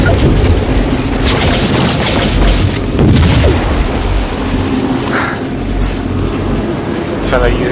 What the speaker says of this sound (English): we're all just getting naded now, that sucks